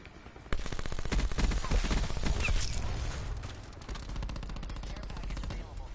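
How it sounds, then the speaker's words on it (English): Sustained automatic gunfire in a video game, fired into a body, starts abruptly and rattles on loudly in dense repeated shots for several seconds. A voice speaks underneath. "I'm shooting this kid's body."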